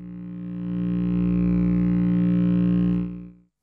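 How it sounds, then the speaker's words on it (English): A Eurorack modular synth digital oscillator holds a single steady, buzzy harmonic-rich tone for about three seconds, loud and alone, before cutting off quickly. "The output from a digital oscillator,"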